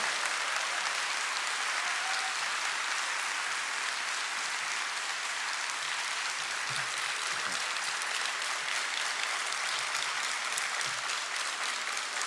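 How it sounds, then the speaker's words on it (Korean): A church congregation applauds to welcome a pastor during an afternoon service, a steady, even wash of many hands clapping together that holds at a constant level for about twelve seconds. "예, 박수 해주세요."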